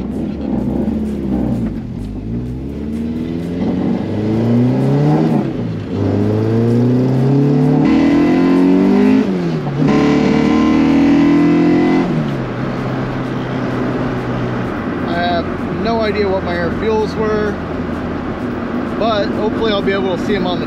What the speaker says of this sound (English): VTEC pops loud.